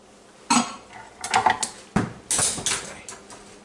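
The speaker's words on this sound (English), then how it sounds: "we'll whisk the eggs" Eggs being whisked in a bowl for coconut raisin buns: a few separate bursts of metal tines clinking and rattling against the bowl, close and fairly loud with short pauses between strokes, no talking.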